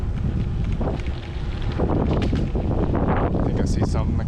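Strong wind blasting a microphone outdoors while cycling in Laos, a loud, continuous roar and buffet that swells and never drops for the whole stretch.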